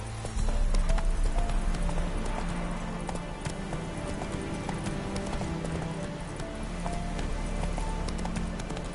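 Roach, the horse in Witcher III, gallops with a steady, rhythmic clip-clop of hooves close by, over faint sustained background game tones.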